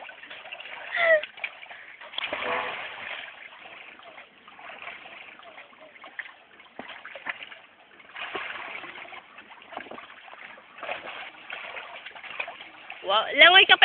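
Splashing from someone swimming laps in water, with irregular splashes and ripples at close range under a voice calling out instructions.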